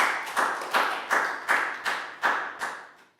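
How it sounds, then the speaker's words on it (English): Year 3 students clap in unison in a classroom, around eight sharp, evenly spaced claps that fade slightly at the end. "A big round of applause for everyone"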